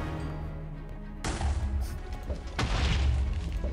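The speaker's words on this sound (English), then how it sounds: "Using explosives on me, huh?" Explosives going off in modded Minecraft: two heavy booms, the first rumbling on for over a second and the second louder and sustained, both close and crunchy.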